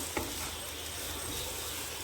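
Cubed potatoes with masala spices frying in a pan, a soft continuous sizzle with a brief scrape of stirring near the start, faint and close with no talking.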